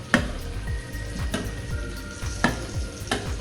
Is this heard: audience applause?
no